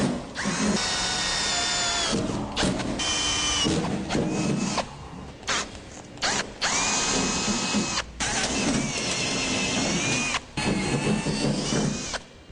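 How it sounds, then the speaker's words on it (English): A step drill bit bores holes through a truck tailgate for a Topline bed extender, a loud whining drill running in repeated bursts with short pauses between cuts. "Now to drill it out, we're going to use a step bit process, starting with a smaller pilot bit and then opening up to our final size."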